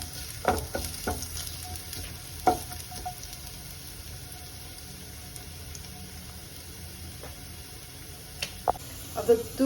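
Ginger sizzling in hot oil in a pan, a steady frying hiss with a few scraping stirs and light clinks throughout.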